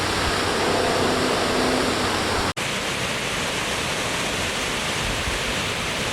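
A waterfall at a canyon running with low water flow gives a steady, dense rush of falling water, broad and continuous with one brief dropout midway and no voices.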